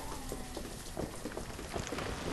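Rain in the video game Banished: a steady patter of raindrops on surfaces, moderately loud and continuous with scattered brief drips, no voices.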